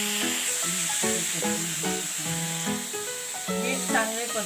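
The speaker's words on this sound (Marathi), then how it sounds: "हे परतून झाल्यानंतर हे बीड्स घालायचे." Beetroot sautés in a pan as part of a bhaji, giving a steady, loud sizzle and hiss. The stirring adds repeated clinks and scrapes, and there is no speech.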